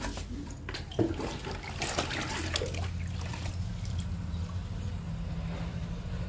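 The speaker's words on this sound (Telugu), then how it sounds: "ఈ మొక్కలకు కూడా ఇచ్చేద్దాము లిక్విడ్ని." Liquid fertilizer poured onto indoor plants on a sit-out, a steady trickle and splash of liquid running over several seconds at close range, with no talking.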